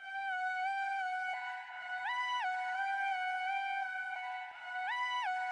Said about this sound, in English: I'm using Shepherd's Horn from Omnisphere for the lead.